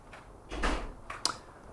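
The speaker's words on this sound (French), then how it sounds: "Ferme la porte." A door closes with a soft, brief thud followed by a short, sharp click, both fairly faint in a quiet room.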